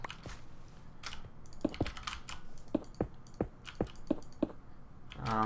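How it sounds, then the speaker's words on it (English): Rapid, uneven clacking of keys on a loud computer keyboard, struck close up in bursts of several presses with brief pauses between, heard alone without talk. "You may notice that my keyboard is a whole lot noisier than my previous one."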